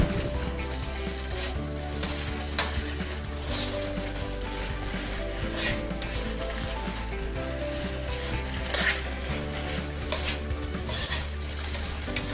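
Chicken lo mein noodles are stirred and tossed in a hot pan with the heat off, giving a steady close soft sizzle under scraping utensil strokes and occasional clinks against the pan, with no talking.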